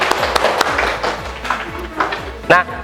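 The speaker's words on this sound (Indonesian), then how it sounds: "beri tepuk tangan dulu" A classroom of university teacher-training students claps for a group presentation, a short spatter of hand claps mixed with voices and room noise.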